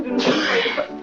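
A single sharp sneeze from the film It's a Wonderful Life, close and fairly loud, bursting out and trailing off within a second.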